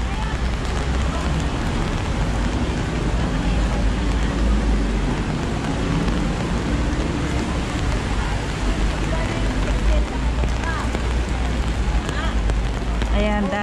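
Steady, dense rain pours onto pavement and surfaces along a Causeway Bay street in Hong Kong, a constant near wash of drops with faint traffic beneath and occasional voices.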